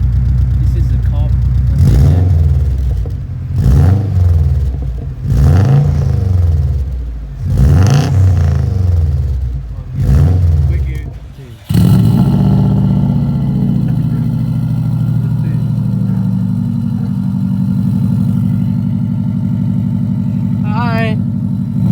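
A 2003 Subaru WRX fitted with an aftermarket eBay exhaust revs loudly about five times in quick rising-and-falling bursts, then holds a long, steady drone close to the microphone.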